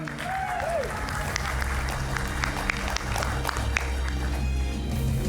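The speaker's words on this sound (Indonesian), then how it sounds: "Langsung berikan tepuk tangan untuk Ahmad Kozinuddin." A studio audience on an Indonesian talk show gives sustained, moderately loud applause for a lawyer guest, even clapping with some crowd murmur and faint cheers.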